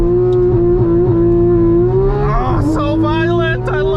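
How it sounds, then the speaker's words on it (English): A Porsche GT3's six-cylinder engine howls as it accelerates hard under launch control, a loud, steady, rising tone, then a brief dip and climbing shift-like sweeps near the end, with a voice talking over it. "Isn't that the most beautiful six-cylinder soundtrack that you have ever heard"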